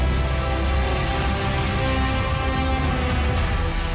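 Heavy monsoon rain pours down in Mumbai, a dense, loud, unbroken hiss of water striking surfaces with no voices.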